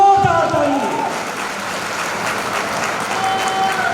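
A crowd at a direct-selling company's event applauds heartily for the chief guest. The thick, even clapping starts strong and stays sustained throughout, with faint tonal sounds and possible voices early on.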